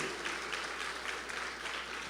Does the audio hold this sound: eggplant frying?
no